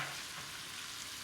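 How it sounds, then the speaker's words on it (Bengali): Potatoes and ridge gourd frying together in a pan, a faint, even sizzle heard alone for a brief moment, quiet and close. "এখন এগুলিকে নেড়ে চেড়ে দিই।"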